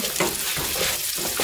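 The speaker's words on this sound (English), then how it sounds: "You can hear that splattering in the background there" Steady sizzling and spattering of bacon and ground beef frying in a pot for chili, continuous and close, with brief bursts of louder crackle.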